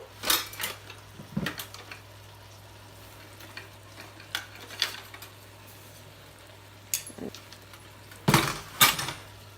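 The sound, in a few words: spoon stirring sweating onions in a pot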